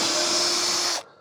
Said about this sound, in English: So I've just drilled a hole in the top there.